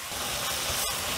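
Thinly sliced meat and vegetables frying for a Korean dish, giving a steady, dense close-up hiss of sizzling fat that runs unbroken with no voices.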